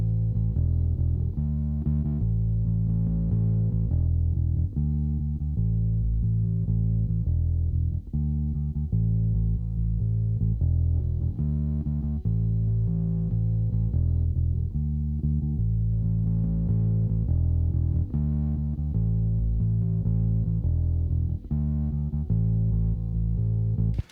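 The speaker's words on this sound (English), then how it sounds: "We kick this distortion in, we get some bite, some top end" A distorted bass guitar plays a repeating riff with a gritty, biting edge over deep low notes, steady and loud with no talking.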